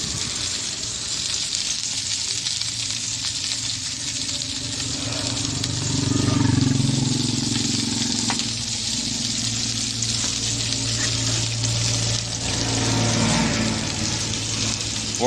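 Okra (ladies finger) frying in a hot pan for a chilli gravy gives a loud, steady, close sizzle that swells noticeably twice as the pieces are turned.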